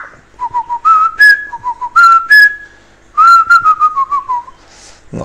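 Pet parrot whistling indoors, a close, loud series of bright melodic whistle phrases in short bursts with pauses between them.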